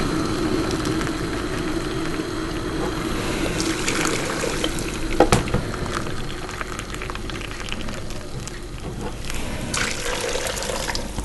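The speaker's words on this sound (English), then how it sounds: "So 3 cups of boiling water, which I'll put in there now" Three cups of boiling water pour steadily into a pot of oxtail, a continuous splashing rush that lasts the whole time, with a brief clink midway.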